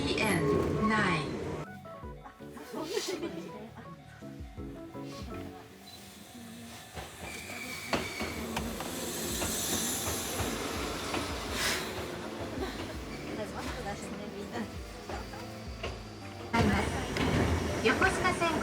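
A Shonan Monorail suspended train runs between Enoshima and Kamakura, heard from inside as a steady rumbling hiss with mechanical whine and clatter, joined by onboard announcements and voices.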